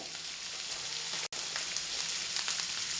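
Sliced onion and cut green chillies sizzling in a hot pan for a cauliflower masala, a loud continuous hiss close by with a momentary break partway through.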